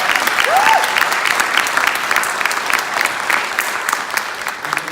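Audience applause at a community event, a dense, steady patter of many hands clapping that fills the room and carries on for several seconds.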